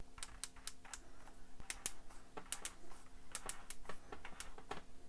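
Depth-adjustment knob on a Topshak electric wood planer clicking as it is turned, a rapid series of sharp, close mechanical clicks in an irregular rhythm over a low steady hum.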